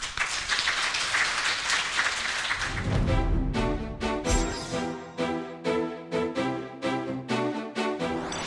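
An audience at the opening of a local self-government university seminar in 2017 gives dense, loud applause. It thins toward the end into scattered individual claps.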